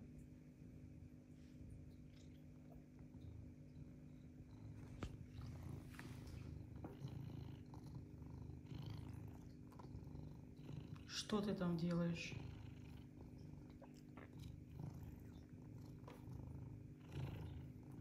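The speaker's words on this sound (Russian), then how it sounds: "И ты здесь мурчишь." A pet cat purring close by, a steady low rumble running throughout, with someone speaking softly over it partway through.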